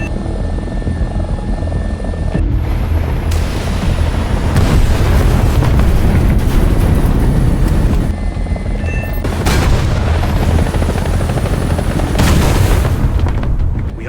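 Military helicopters in a video game battle, loud continuous rotor and engine roar with bursts of gunfire and explosions layered throughout, no speech.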